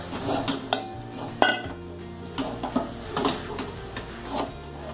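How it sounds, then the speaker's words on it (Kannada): A spoon scrapes and clinks against a pan as boiled potatoes are mixed into spices for an aloo paratha filling, with irregular close metallic taps and scrapes over a faint steady background hum and no speech. "ನೆಕ್ಸ್ಟ್ ಬೇಯಿಸಿಟ್ಕೊಂಡಿರೋ ಆಲೂಗಡ್ಡೆಯನ್ನು ಹಾಕಿ ಗ್ಯಾಸ್ ಆಫ್ ಮಾಡಿ ಇದನ್ನ ಚೆನ್ನಾಗಿ ಮಿಕ್ಸ್ ಮಾಡ್ಕೊಳ್ಳೋಣ."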